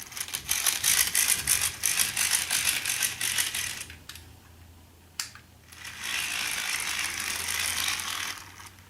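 A scratch-built HO/OO scale model locomotive chassis runs with a loud, continuous mechanical rattle and ratcheting gear noise, close up, dropping out briefly partway through before resuming.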